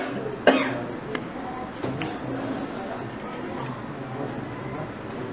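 A patient gives one sharp, close cough on request during a surgical clinical examination, followed by faint room noise and low murmured voices.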